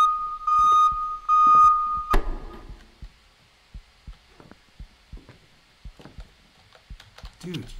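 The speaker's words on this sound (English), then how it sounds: "Why is an alarm going off?" A steady beeping alarm sounds in the video game Minds Eyes, two long electronic tones that cut off, followed by scattered clicks and soft thuds in the quiet.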